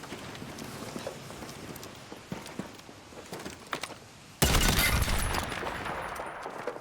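Enemy gunfire in the Battlefield RedSec video game: scattered sharp cracks and rapid bursts ring out at a distance, then a loud, dense blast of fire erupts close by and holds for the last couple of seconds.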